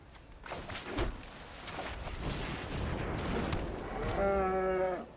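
A cow moos in a video game, one drawn-out low moo near the end, after a stretch of mixed game noise and clatter.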